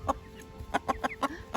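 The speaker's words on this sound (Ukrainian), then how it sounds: "Такий контактний, чудовий півник" A rooster clucks in a village yard, a series of short, close, moderately loud clucks in an uneven rhythm with brief pauses between them.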